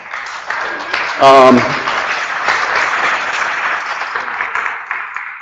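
An audience at an evening book talk applauds in a steady, moderately loud wash of clapping, with a brief voice rising over it early on.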